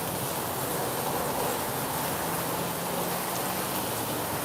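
Steady rain falls in Thailand, a dense, even hiss of drops on surfaces that stays constant and fairly loud throughout, with no voices.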